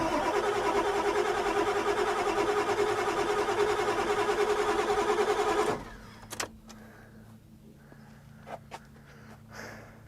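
A 1997 Ford F350 with the 7.3 turbo diesel and 269,000 miles cranking over, a loud rhythmic starter churn for almost six seconds that stops abruptly, followed by quiet clicks and faint knocks.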